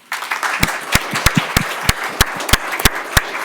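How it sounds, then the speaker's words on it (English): A small audience at a commissioners meeting gives a round of applause, starting from quiet and building into distinct individual claps with several sharp, close hand strikes standing out over the softer patter. "Please give him a round of applause."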